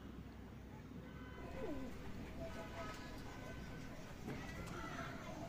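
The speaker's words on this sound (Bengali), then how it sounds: "এটা অনেক সুন্দর কবুতর" Pakistani high-flyer pigeons cooing softly in a loft, low repeated coos under someone speaking nearby, with steady background ambience.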